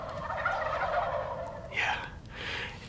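Wild turkeys gobble from a roost about 100 yards away, a couple of rattling gobbles overlapping in quick succession against quiet, cold, snowy outdoor air.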